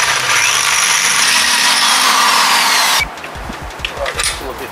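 A power drill bores a hole for a coach bolt during a 12-volt trailer winch repair, running loud and steady for about three seconds before stopping, followed by a handful of close clicks and clunks.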